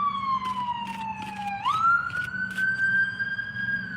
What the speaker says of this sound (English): as the sirens are going off